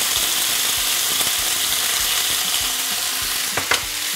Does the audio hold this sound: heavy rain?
no